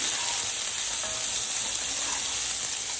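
Onions sauté in a hot cast iron skillet with a steady, dense sizzle that holds evenly for three seconds, close and fairly loud, with no talking.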